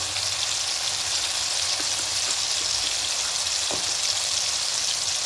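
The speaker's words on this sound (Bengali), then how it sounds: "এবার এখানে দিয়ে দেবো যে সর্ষে পোস্ত কাঁচা লঙ্কা পোস্ত করেছে সেটা দিয়ে দেবো" Mustard, poppy seed and green chili paste hitting hot oil with melted tomato, giving a dense, even, close sizzle throughout with a few faint clicks of the spoon.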